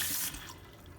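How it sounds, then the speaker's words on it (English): A hose nozzle waters a plant growing in cracked, salty soil, a brief bright spray hiss at the start that quickly fades to a faint, quiet trickle. "we can just water the plant now with this nozzle"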